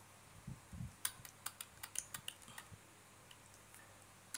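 Quiet, rapid typing on a computer keyboard, a run of soft individual key clicks at an uneven pace that thins out toward the end, with no talking.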